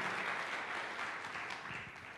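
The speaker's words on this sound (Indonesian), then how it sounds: "Beri tepuk tangan yang meriah bagi Tuhan." Congregation applauding in church, a steady wash of clapping from many hands that carries evenly through the whole stretch with no voice on top.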